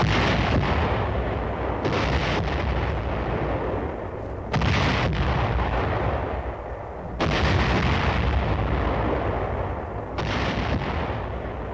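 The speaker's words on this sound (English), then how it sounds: "24th Division Artillery prepares to open fire on Hill 584" Korean War artillery of the 24th Division fires on Hill 584, with heavy booming blasts every few seconds, each followed by a long rumbling roar that fills the air between shots, and no speech.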